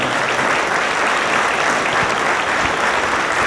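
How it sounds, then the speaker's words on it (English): An audience at an elementary school community celebration applauds the staff and teachers, a dense, steady burst of clapping from a crowd close by, with no voices over it. "So just one more round of applause for the staff, the teachers, Lori, Amy, everybody that helped out."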